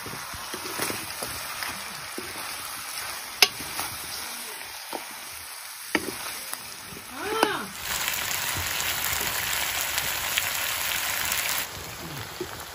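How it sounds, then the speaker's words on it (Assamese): Steady broadband sizzle of pumpkin frying in a pan, with scraping stirs and occasional knocks, rising into a louder, denser hiss for several seconds before easing. "কোমোৰা দিয়া পাছত অলপ সময় ভাজিলোঁ"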